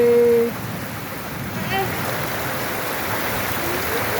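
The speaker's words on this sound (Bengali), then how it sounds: "আকাশে বাতাসে বৃষ্টি পড়তাছে" Rain falls steadily in a village, giving a continuous even hiss of drops on surfaces that stays constant throughout, with a short tonal blip at the start.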